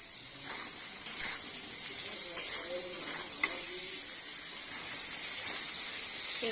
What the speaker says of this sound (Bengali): আলুগুলো এখন ভেজে নেব ভালো করে